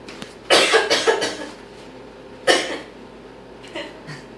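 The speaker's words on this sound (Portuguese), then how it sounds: "Tosse de novo" A person coughs up close, a burst of several rough coughs, then a single cough after a pause, with faint movement noise between.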